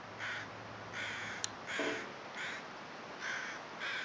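Crows caw repeatedly in the snowy wilderness of the video game The Long Dark, a regular series of harsh calls at moderate distance over a steady wind hiss, with no one speaking.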